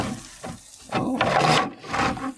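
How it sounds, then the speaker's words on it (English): A hose sprays water onto derusted car parts from a Tri 5 Chevy, a near hissing spray coming in several uneven bursts that swell and fade. "See how it sprays off with the hose."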